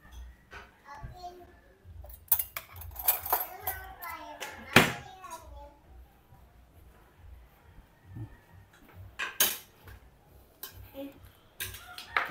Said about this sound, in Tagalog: Kuha ang kutsara.